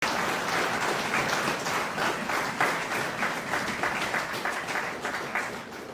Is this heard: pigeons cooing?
no